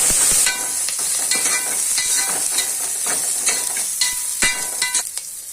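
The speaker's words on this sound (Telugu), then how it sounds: "కొద్దిగా ఆనియన్ అండ్ చిల్లీ వేసుకోండి. ఒక 2 మినిట్స్ వరకు వేగించుకోండి." Onion and chilli fry in a pan for mutton curry, a steady loud sizzle with a bright hiss and occasional scraping stirs, close up and with no voices.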